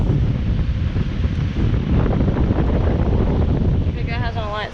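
A frozen, iced-over 2008 Trane XL15i 5-ton heat pump with an Alliance scroll compressor and GE ECM fan motor runs in cool mode outdoors, a loud constant roaring whoosh with rough, buffeting low rumble throughout.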